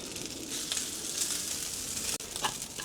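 Rice sizzles and fries on a hot outdoor griddle turned up high, giving a steady, close crackling hiss with small pops and a brief scrape near the end.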